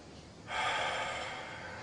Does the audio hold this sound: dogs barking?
no